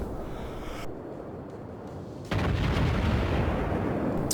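Warship main battery guns fire in the World of Warships naval combat game, a sudden loud, broad boom that rolls into a sustained rumbling roar after a quieter stretch of ambient sea and engine noise.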